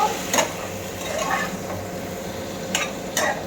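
Vegetables for shukto with bitter gourd and potato cook in oil and a splash of water, giving a quiet, steady sizzle broken by a few soft scrapes of stirring.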